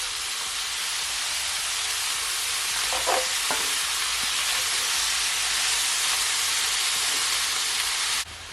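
Cabbage stirred as it fries in a pan, a steady broadband sizzle throughout with a few soft scraping stirs near the middle, no voices.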